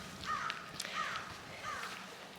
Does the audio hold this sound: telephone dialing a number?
no